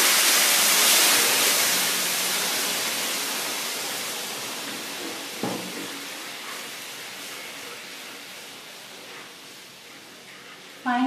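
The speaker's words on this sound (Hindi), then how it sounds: "मैं इसमें पानी डाल रही हूँ" Water pours from a glass into a suji halva mixture in a kitchen pan, a loud hissing, splashing sizzle that slowly fades and settles over several seconds, with a brief clink and a sharp sound at the end.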